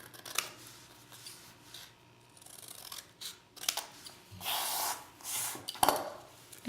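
Scissors snip through paper or foam sheet while trimming a papercraft page evenly along two sides, producing several short, close crisp cuts and rustling with a few pauses between them.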